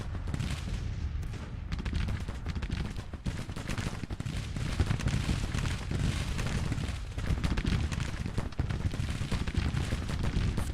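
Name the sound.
gunfire on cavalry in Grand Tactician Civil War video game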